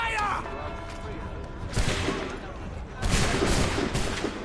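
A musket volley fires in Assassin's Creed, loud cracking bursts with a heavy boom, a first strong burst followed by a second one a moment later, set among game ambience.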